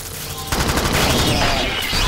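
Rapid automatic gunfire in the video game Alien Swarm, a loud, continuous burst that kicks in after a brief lull and keeps rattling to the end.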